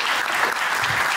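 Audience applauding at a rural municipality's anniversary ceremony in Estonia, a steady, dense burst of clapping from a crowd that fills the whole moment at an even level.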